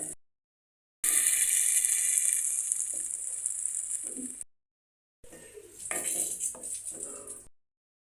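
Ground masala for a coconut milk chicken curry frying in hot oil, a bright hissing sizzle in two bursts with a gap between, fairly faint and without talk.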